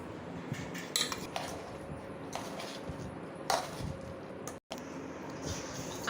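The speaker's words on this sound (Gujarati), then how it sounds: "હવે આને આપણે એકદમ સરસ રીતે બધું મસ્ત મિક્સ થઈ જાય એ રીતે હલાવી લઈશું" A spoon scrapes and clinks against a bowl while stirring batter for Gujarati onion fritters (kanda vada), steady close clatter with a few sharper knocks and a brief pause near the end.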